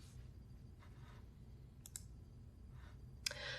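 Faint, soft computer mouse clicks close a Windows window, a few scattered ticks and one sharper click near the end against a low hum.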